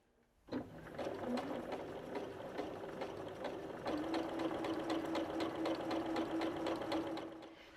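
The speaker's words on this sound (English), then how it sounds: "Now we're going to sew just slightly to the outside of that line." A sewing machine hums and clicks in a steady, rapid stitching rhythm, close by, as it sews a quilt block just outside a marked line, running continuously after starting up.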